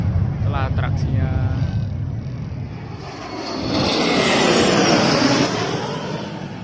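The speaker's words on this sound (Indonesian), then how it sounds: "Dari suaranya udah tahu itu pesawat tempur ya." A fighter jet flying over during an air show at the Sultan Iskandar Muda air base: a loud, broad jet roar that swells and peaks near the end before easing off, with voices briefly audible at the start.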